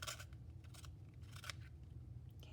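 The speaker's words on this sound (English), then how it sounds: "I'm gonna have to sharpen my pencil a little bit" A pencil being sharpened during a colored-pencil drawing session, quiet rasping scrapes in short uneven bursts over low background hum, with no talking.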